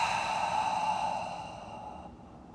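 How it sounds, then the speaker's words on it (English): A single deep, breathy exhale during a guided yoga breathing exercise, soft and close, tapering away over a couple of seconds with no talk over it. "taking a deep inhale in. And a deep exhale."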